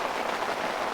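Rain falls on a camping tarp at a campsite, making a steady, even hiss of drops with no voices.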